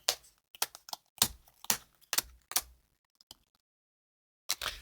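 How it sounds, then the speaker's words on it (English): Board game cards shuffled by hand for a solo tabletop session, a series of sharp riffling bursts and taps in quick irregular clusters, close and alone, with a quiet gap before one last riffle. "So let's do some shuffling."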